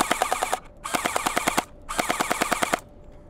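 A Nerf Gelfire Mythic gel blaster firing on full auto, heard in three close, loud bursts of rapid, evenly spaced mechanical shots separated by brief pauses.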